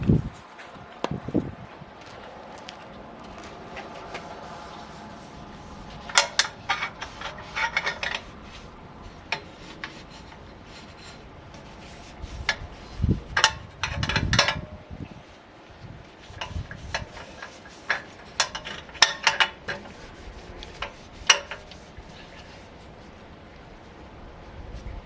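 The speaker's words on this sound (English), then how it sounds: "So let's go ahead and wipe this down with some acetone" Cloth rubbing acetone over a 2014 GSXR 750 motorcycle frame before VHT painting, heard as intermittent soft scuffs and rubbing bursts with scattered light knocks and clinks, fairly close, with no talking.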